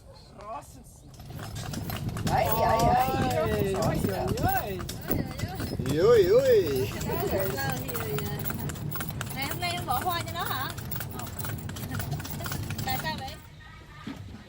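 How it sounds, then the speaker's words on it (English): Hooves of a small horse pulling a cart on an island outing in Vietnam clip-clop steadily at close range, running beneath ongoing voices talking throughout. "we were thankful to get a lift on a small horse cart"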